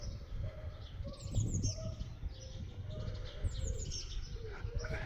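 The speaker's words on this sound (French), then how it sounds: "Et on entend les mouettes" Seagulls call by the sea in Granville, with several short cries rising over a steady outdoor background of wind and distant activity.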